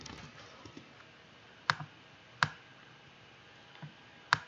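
Keys clack on a computer keyboard in a quiet room, with a few sharp, louder clicks standing out among lighter taps spread across the stretch.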